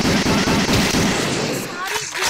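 Rapid bursts of gunfire from a Taarak Mehta Ka Ooltah Chashmah (TMKOC) mobile shooting game, loud and dense with continuous shots under in-game effects, fading slightly toward the end.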